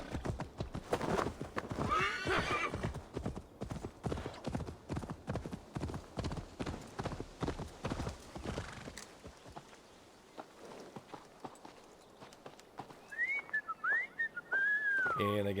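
Horse hooves clip-clop at a steady trot with a whinny, in Assassin's Creed Valhalla; rhythmic footfalls dominate, then fade into quieter ambience with bird-like whistles near the end.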